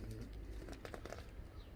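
Racing pigeons cooing inside a loft shed, a steady low murmur of many birds close by with a few brief higher calls mixed in, continuous throughout without any talk.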